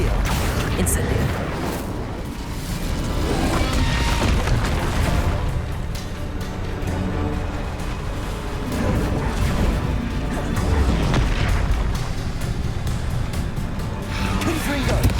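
Spell explosions from a Harry Potter video game, with booming blasts, crashes and pops piling up continuously under a speaking voice, loud and dense throughout.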